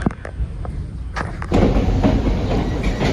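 A passenger train runs on rails near the Cape Cod Canal, heard from inside as a continuous rumbling roar with scattered thumps and clacks that grows louder and denser halfway through.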